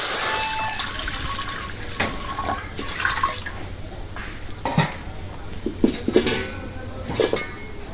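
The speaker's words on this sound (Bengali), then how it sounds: "এই যে কড়াইতে পানি দিয়ে দিলাম একটু" Water is poured into a wok on a home cooking stove while fish is being prepared, a splashing, gurgling pour with a few clinks of utensils against the pan, moderately close and continuous, with no talk.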